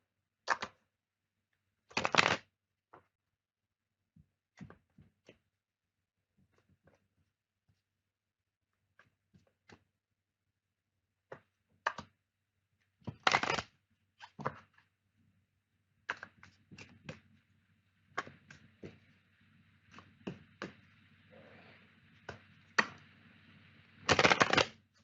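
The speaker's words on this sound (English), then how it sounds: "I can pull some oracle cards for you" Oracle cards shuffled during a reading: short crisp riffling bursts separated by quiet gaps, plus scattered small taps and handling clicks, growing busier toward the end.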